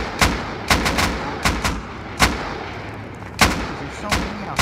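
Rocket launchers in Rust fire a series of heavy booming blasts, roughly eight sharp explosive hits spaced irregularly over a few seconds, loud against a low background rumble.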